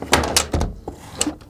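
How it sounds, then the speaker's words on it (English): A hinged drop-down door in a workshop swings open with a few close thunks and knocks, followed by a lighter clack a moment later. "There, the door is falling right there."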